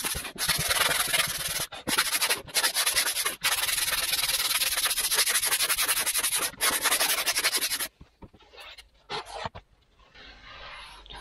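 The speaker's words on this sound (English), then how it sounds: "Go into the sanding block now." A sanding block rubs steadily along the leading edge of a Mirus 25 electric model aircraft wing, a loud, continuous scratchy rasp with a few brief pauses, then stopping into quieter intermittent handling noises.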